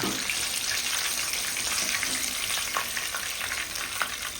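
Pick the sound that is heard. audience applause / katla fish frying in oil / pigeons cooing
katla fish frying in oil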